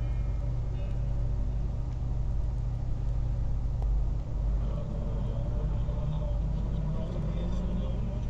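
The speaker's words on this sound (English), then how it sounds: "Tis a car." A car engine idles in the horror video game Slender: The Arrival, giving a steady low rumble that stays constant and fairly loud throughout, with no clear talking over it.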